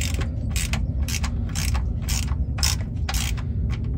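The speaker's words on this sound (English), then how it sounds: "I'm gonna be using a 15 millimeter. We're gonna open it and drain it." A 15 mm ratchet works on the oil drain plug of a 2015-2020 Cadillac Escalade, clicking in a steady series of about eight close, loud bursts. A low rumble of the surrounding space runs underneath.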